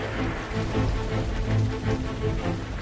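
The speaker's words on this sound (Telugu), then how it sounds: "వాన పడుతుంది." Steady rain patters on a surface in a soft, even wash of drops, fairly quiet and continuous throughout with no talking.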